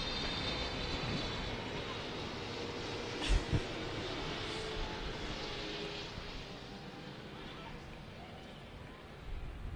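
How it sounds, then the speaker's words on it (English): A low-flying Qatar Airways airplane roars overhead above a suburban soccer match, a loud, sustained broadband engine rumble that fills the whole stretch, with a couple of brief thumps partway through. "There's another plane, a very, very low plane. Flies overhead."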